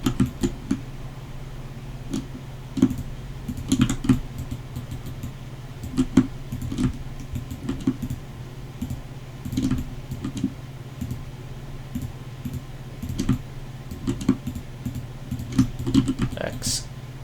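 Computer keyboard keys pressed while working in Maya, scattered clicks and short runs of taps at a desk under a low steady hum, with someone talking throughout.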